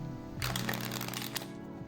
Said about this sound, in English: I'm going to shuffle the deck again, just like so.